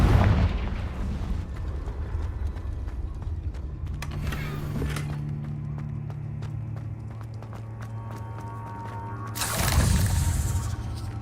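Confringo blasting spells explode in the Hogwarts Legacy video game: a heavy blast opens, sharp cracks follow with a droning hum, and another loud burst hits near the end.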